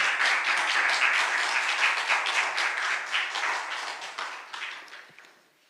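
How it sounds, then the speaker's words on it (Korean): A church congregation at Sunday worship applauds warmly to welcome a visiting missionary: dense, sustained clapping from many hands that holds steady, then tapers off and fades to quiet near the end. "우리 뜨겁게 박수함으로 선교사님 환영하겠습니다"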